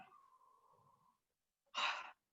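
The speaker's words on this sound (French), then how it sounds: "Et puis on souffle bien en relâchant." A slow exhaling breath during a sophrology relaxation exercise, a soft sustained breathy tone fading out, followed after a pause by a short, louder burst of breath.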